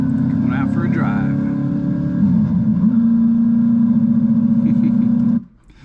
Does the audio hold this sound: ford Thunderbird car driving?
yes